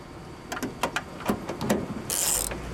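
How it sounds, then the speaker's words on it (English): GearWrench new-style ratchet clicking in short irregular bursts of sharp mechanical clicks, close up, followed by a brief harsher buzzing rattle near the end; no talk. "These are Gear Wrench's new style ratchet."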